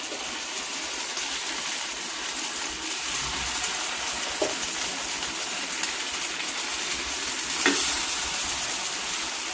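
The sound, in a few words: fasting aape batter sizzling in aape pan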